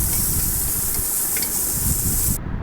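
Onion, garlic and green chili fry in a pan with prawns in the same dish, giving a steady close hiss and sizzle broken by light scraping stirs, with no talking.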